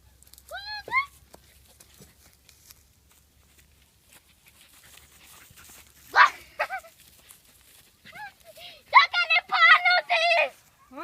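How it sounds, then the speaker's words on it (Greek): Several dogs barking at a distance in short bursts, a few sharp yelps early on and a louder cluster of barks toward the end, with a voice and soft talk between them. "Έχουμε πολλούς, πάρα πολλούς σκύλους."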